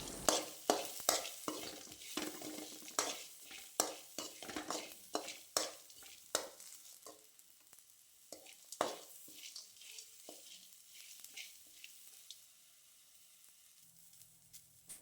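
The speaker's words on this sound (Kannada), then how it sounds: "4 ಪೀಸ್ ಲವಂಗ ಹಾಕಿ ಫ್ರೈ ಮಾಡುವ." Whole spices including cloves frying in a pan, with quick scraping stirs and crackling sizzle, busy and close at first, then thinning into sparse taps and soft hiss.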